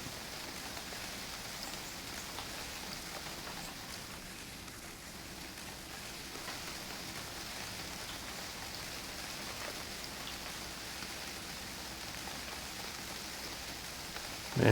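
Heavy rain in the UnReal World video game, a steady dense hiss of downpour holding at an even level throughout with no talk over it.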